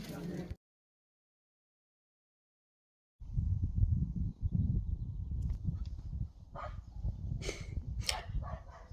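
A dog barks and yips repeatedly at close range, with some short higher-pitched yelps near the end, after a brief quiet gap.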